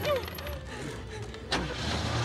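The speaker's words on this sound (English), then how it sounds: "Start the car! I'm trying!" A car engine cranks and catches, a short rough burst under hurried, frantic voices.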